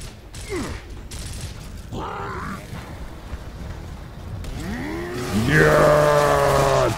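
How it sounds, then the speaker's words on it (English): A Lancer chainsaw bayonet revs during a Gears of War fight. Creaks and mechanical clanks come first, then a loud whining motor rises and holds near the end. "we're going to see if we can chainsaw this guy"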